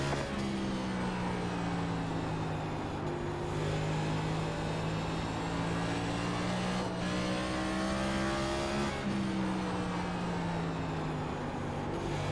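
A NASCAR stock car engine roaring continuously around the short Bristol oval in the iRacing simulator, a loud, sustained drone whose pitch rises and dips as the car accelerates and lifts through the turns, with other cars faintly in the mix.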